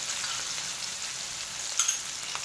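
Crushed garlic and green chili sizzle in a hot asafoetida and fennel tempering for an Indian flat-bean curry. A loud, steady, close frying hiss runs throughout, with a couple of brief pops near the end.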